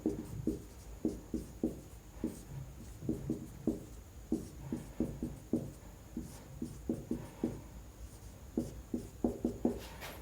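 Chalk or marker strokes on a board during a chemistry nomenclature lesson, a brisk run of short scratchy taps and squeaks in uneven bursts, close and clear with no talking.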